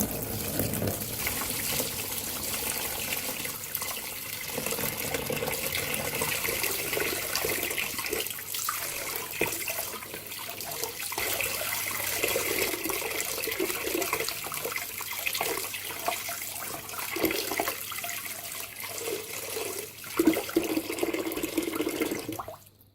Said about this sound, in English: So take that off, give it a good rinse.